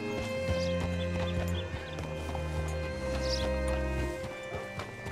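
A horse in the western video game Red Dead Redemption 2 steps with light clopping hoofbeats, layered over a low, steady music score.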